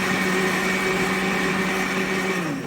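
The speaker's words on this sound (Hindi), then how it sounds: "इस तरीके से हमने हरी मिर्चों के साथ दही को कर लिया ग्राइंड" Juicer-grinder machine whirring steadily as it grinds yogurt with green chillies, a loud continuous motor hum with no pauses and no talking.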